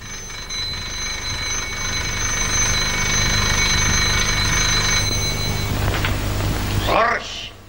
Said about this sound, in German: Horch, es schrillt die Glocke.